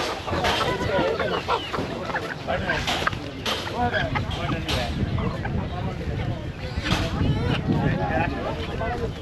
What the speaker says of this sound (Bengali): একেবারে দেশি হাঁস মুরগি এখানে বিক্রি করছেন দেখতে পাচ্ছি